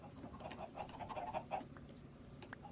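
Soft chicken clucking from Minecraft, a run of short, faint clucks and chirps in the first half of the clip, fading into quiet background.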